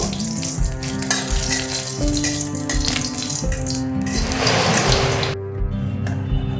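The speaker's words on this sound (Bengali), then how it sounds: "তেলটা গরম হয়ে গেছে আমি দুটো শুকনো লঙ্কা ভেজে নেব" Dry red chillies fry in hot mustard oil in a pan, a loud, continuous crackling sizzle over background music that fades out near the end.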